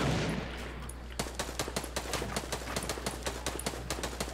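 Rapid gunfire in a shooter video game, a dense burst of evenly spaced sharp shots in quick automatic rhythm over a low steady hum, loud and close, with no talk.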